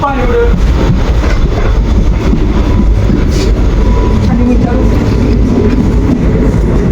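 Inside a moving, almost empty train on a trip to Shegaon, a loud steady rumble and rattle of the carriage fills the whole span, with voices talking over the constant noise.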